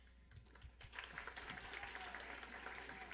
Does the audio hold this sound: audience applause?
yes